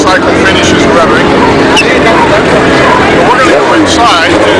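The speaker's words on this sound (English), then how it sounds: "We'll wait until that motorcycle finishes revving." A motorcycle revs in a busy city square. Its engine drones loudly and steadily through the whole stretch, mixed with traffic noise from passing cars, and people talk nearby.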